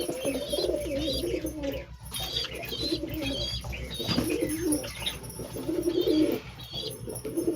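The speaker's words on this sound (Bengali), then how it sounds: "দেখো এই তো সব পায়রাগুলো।" Pigeons cooing close by, a flock producing continuous low, rolling coos with occasional wing flaps and light chirps in the background.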